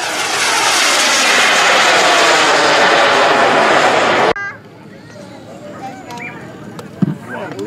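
A Sukhoi jet aircraft makes a slow flyby at an airshow, a loud, steady roar of engine noise that holds for about four seconds and then cuts away to quieter ambience with faint voices.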